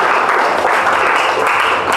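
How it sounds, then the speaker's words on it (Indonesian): A class of students claps for their classmates, with a loud, steady burst of applause that lasts throughout. "Tepuk tangan dulu untuk teman-temannya."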